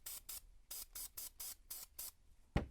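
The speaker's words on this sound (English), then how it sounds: "give it a spray" Aerosol can sprayed onto cheap model railroad scenery material, giving eight short, close hissing bursts in a steady rhythm, followed by a brief low thump at the end.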